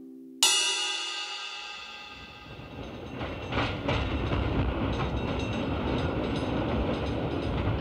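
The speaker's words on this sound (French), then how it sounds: "fameux trains Castor qui traversent la France dans un silence de mort" A sharp horn blast opens, then a Castor nuclear waste train rumbles past on the rails in France with a steady, loud roar and rattling wheels.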